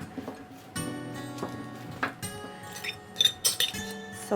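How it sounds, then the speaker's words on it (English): Vegetables including Brussels sprouts are spread across a metal oven tray, giving scattered light clinks and taps that come close and clear in an irregular rhythm, with faint tonal ringing and no talking. "Get your oven tray, and I'm going to get all of my veggies out and spread them really well."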